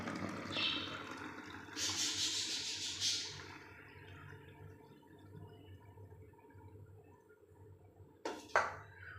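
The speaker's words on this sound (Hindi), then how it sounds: "पूरी बोतल को मैंने भर लिया है।" Water is poured into a bottle at home in a splashy, filling rush that lasts a couple of seconds and then fades, followed by a few sharp knocks near the end, with no voices.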